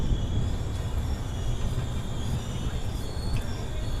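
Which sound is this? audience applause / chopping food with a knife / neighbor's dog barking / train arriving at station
train arriving at station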